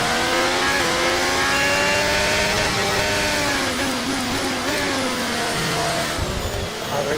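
Simulated F1 race car engine in the F1 23 video game, a loud, continuous high-pitched scream that rises and falls as the car brakes and accelerates through turns, with no voices over it.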